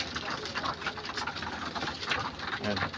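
Pet racing pigeons feed nearby, giving a busy, soft pecking and shuffling texture with faint cooing, a steady low murmur of activity throughout.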